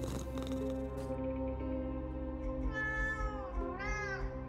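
A cat gives two drawn-out meows over a steady tonal background, loud and close, the second meow rising and falling in pitch.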